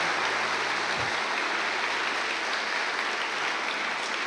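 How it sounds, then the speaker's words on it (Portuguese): A church congregation applauding in a thick, even wash of clapping that fills the room, loud and sustained, with a brief low thump near the start. "Dê uma salva de palmas para o Senhor Jesus."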